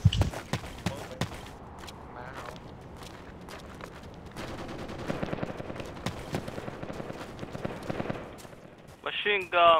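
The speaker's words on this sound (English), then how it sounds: "Machine gun, cavalry." Machine-gun fire and galloping cavalry horses in a Battlefield battle: sharp, scattered shots and a rumbling clatter of hooves, with voices talking faintly at times.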